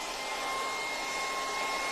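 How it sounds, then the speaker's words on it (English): A hairdryer blows steadily on freshly applied stencil paint, a loud, constant whirring roar with a faint high whine, running without pause and with no talking. "I am just going to hit that with the hairdryer."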